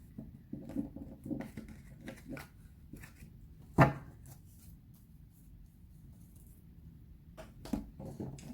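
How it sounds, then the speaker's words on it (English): Tarot cards are shuffled and riffled close by, a run of light rapid patters with a few sharper snaps and taps, no talking. "Quickly shuffle these and then we'll start."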